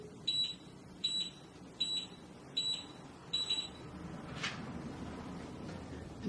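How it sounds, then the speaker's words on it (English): A Wylera Hair Dreamwave curling tool gives five short, high electronic beeps at a steady pace, then falls quiet over a faint background hum. "Wait for the long beep."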